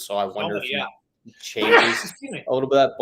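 A sneeze bursts out during a sports-betting podcast discussion of MLB and preseason football, set between stretches of close conversational speech.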